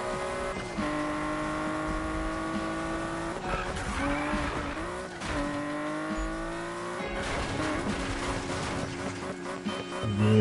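Cars racing in Need for Speed, with engines revving up and down through gear changes, tires squealing and skidding, all loud and close throughout.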